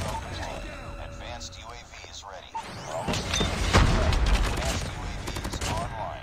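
Sustained PP Bizon submachine gun fire rattles in Call of Duty Mobile, the bursts growing denser and louder midway, with a voice speaking over the shooting.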